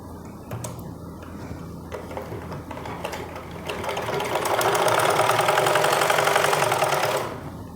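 A sewing machine runs a seam on a Punjabi suit trouser hem, starting with a few short bursts, then settling into a steady, loud, fast stitching whir for several seconds before stopping abruptly.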